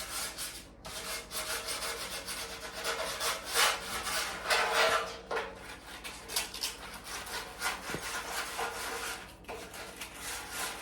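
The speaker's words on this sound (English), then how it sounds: "We're going to slightly sand the flange so it will accept new paint when I'm painting everything." Sandpaper worked by hand across the front fender flange of a 1972 VW Super Beetle, close, steady back-and-forth rasping strokes with short pauses between passes, no voices.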